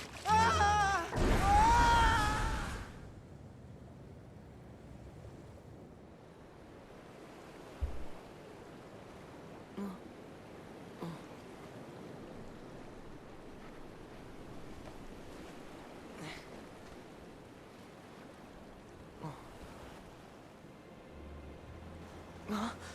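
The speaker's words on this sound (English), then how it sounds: "Sora's just stranded in the middle of the ocean." Ocean surf in Kingdom Hearts Dream Drop Distance HD washes faintly and steadily around Sora, stranded in the middle of the sea, after a brief louder tonal burst at the start, with a few soft thumps scattered through.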